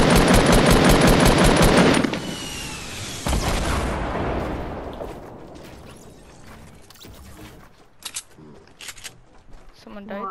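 A rapid burst of automatic gunfire in a shooter video game rattles loud and close for about two seconds, then trails off into fainter echoes and scattered distant shots.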